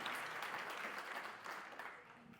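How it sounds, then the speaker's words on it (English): Audience applause at a community founders celebration, a steady wash of many hands clapping at moderate distance that holds for the whole stretch and tapers slightly toward the end. "Come on, that deserves another round of applause."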